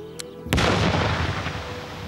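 A miniature mine is blown up in a bomb disposal demonstration, with observers well back from the blast. A faint tick is followed by a single sharp explosion, then a heavy, broad rumble that lingers and slowly fades.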